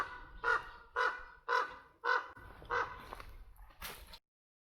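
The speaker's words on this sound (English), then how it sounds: "Oh, a crow's interrupting me." A crow caws about six times in a steady series, loud and close, out near a spring in a muddy wild setting with low background noise.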